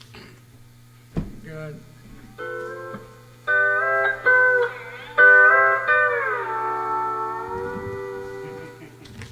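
Pedal steel guitar pedal bend: a few sustained notes start plucked, then the pitch bends smoothly downward, with a brief spoken word near the start.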